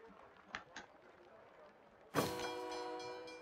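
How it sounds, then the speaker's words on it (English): A train arriving in the steampunk city-building game SteamWorld Build: a few faint clicks, then a sudden loud whistle blast with rumbling rail noise that holds to the end. "Right, the train arrived."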